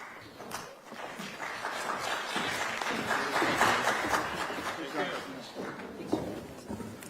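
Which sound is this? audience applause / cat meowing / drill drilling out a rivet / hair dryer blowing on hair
audience applause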